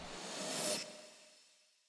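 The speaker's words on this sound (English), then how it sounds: "Some sweep over here." Dubstep sweep effect: a broad noise swell that rises to a bright peak then fades out smoothly over about two seconds, alone with no voices.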